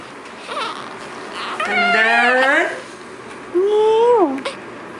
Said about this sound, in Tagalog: May ngiyaw na rin.